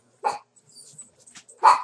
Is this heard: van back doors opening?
no